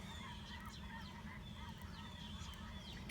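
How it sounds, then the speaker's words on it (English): A flock of geese flying north over a pasture and pond honks repeatedly in the distance, with faint calls repeating over a steady low rumble of wind or background noise. "There goes a flock of geese."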